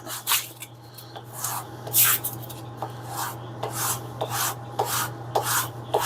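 Leather edge burnished by rubbing back and forth over a piece of canvas on a metal table, a steady series of close, soft rasping strokes with a faint hum underneath.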